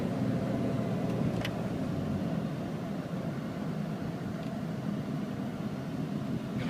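Jeep Cherokee XJ Sport engine with about 80,000 miles under light acceleration on a hot day, a steady, fairly loud low rumble that holds an even level throughout with no voices.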